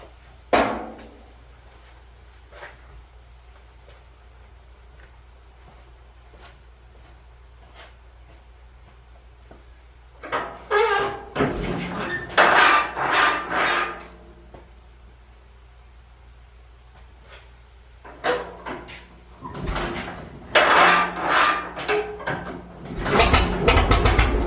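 A McCormick-Deering 10-20 tractor engine cranks and fires in loud, ragged bursts, catching briefly, sputtering out, then roaring into rough running again toward the end, with quiet clicks between attempts.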